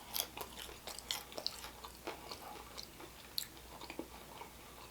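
Someone bites and chews a crunchy Buffalo Wild Wings Dorito Thai chili spicy wing. The bites crunch quietly and close to the mic in irregular bursts over about five seconds, with no talking.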